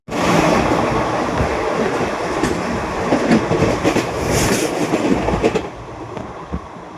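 Lucknow Express passenger train rolling across the Penna river bridge near Nellore, a loud steady roar of wheels and carriages with rhythmic clickety-clack over the rails, close and continuous, easing slightly toward the end.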